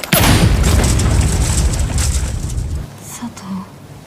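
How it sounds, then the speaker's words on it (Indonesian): A loud bomb blast in an action film bursts out at once and rumbles heavily for almost three seconds before cutting off, followed by quieter scattered sounds. "Otsubo melemparkan sebuah bom"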